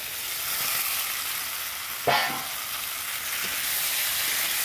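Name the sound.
fried potatoes and eggs added to oil in pan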